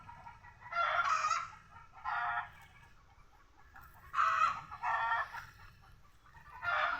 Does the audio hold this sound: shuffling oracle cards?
no